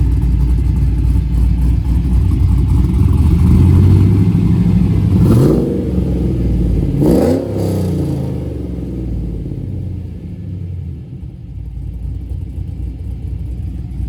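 A 4th gen Camaro with Borla XR1 mufflers in a Speed Engineering true dual 3-inch exhaust, rumbling loudly at idle, then two quick revs around the middle before settling back to a deep burbling idle.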